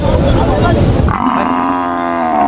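At a cattle market, a bull lets out a long, loud moo close by, following a burst of mixed voices and animal noise.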